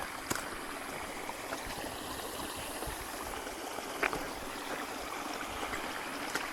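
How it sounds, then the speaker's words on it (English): A stream beside a campsite on the Elk River Trail runs in a steady, continuous rushing babble, close and even throughout with a few small splashes and no talking. "There's legit running water right here, which makes this very appealing for a campsite."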